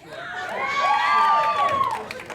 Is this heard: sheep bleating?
no